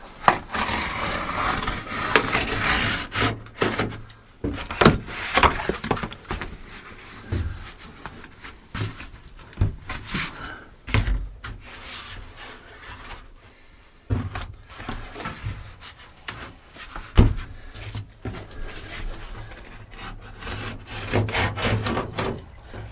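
Scissors or a blade trimming a cushion piece, heard as irregular scraping, rubbing and cutting strokes close by, with short pauses between bursts and no talking.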